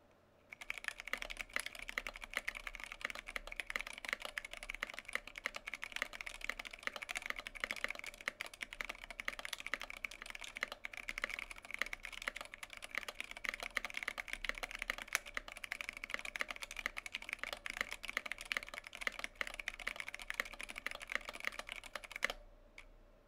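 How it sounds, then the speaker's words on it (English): Rapid, continuous typing on a Jupiter 75 mechanical keyboard, with dense, quiet key clacks running for about twenty seconds without pause. "let's do another typing test"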